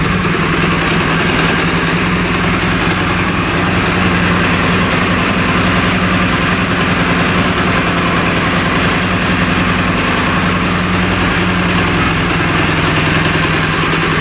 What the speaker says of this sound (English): Run for about 2 minutes at idle speed,